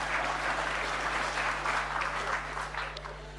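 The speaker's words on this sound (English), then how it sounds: "I thought you'll clap." A parliamentary audience at a budget speech bursts into sustained applause, a dense wash of clapping that holds steady and then thins slightly toward the end, heard over a low electrical hum.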